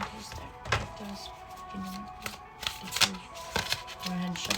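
A deck of tarot cards is shuffled in repeated riffling bursts, close and moderately loud, with soft voices talking underneath.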